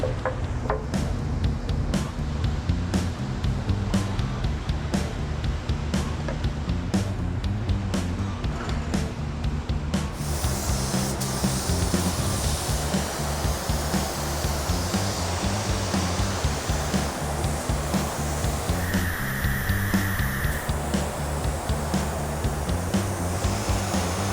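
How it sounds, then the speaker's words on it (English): A continuous loud hiss of a paint spray gun spraying Blue Sky Metallic paint on a car runs throughout, steady and close, with a brief change in tone partway through. "For the back, we're going to be spraying Summit Racing's Blue Sky Metallic."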